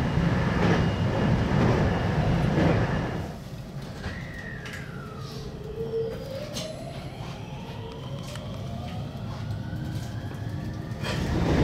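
A Hokuriku Main Line train crosses the Kuzuryu River in Fukui, a heavy rolling rumble for about three seconds that drops to a quieter steady run, with thin whistling squeals and bird calls above it.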